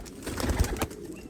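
Lavender-toned domestic pigeons coo in a soft, low, continuous burble close by, with a couple of slightly louder swells in the middle and no talking on top.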